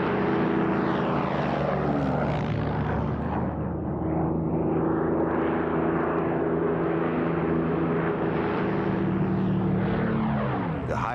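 A Supermarine Spitfire HF high-altitude interceptor with a 1,600 horsepower Merlin engine and two-stage supercharger drones steadily overhead, a loud continuous propeller-engine roar that holds level throughout with no break.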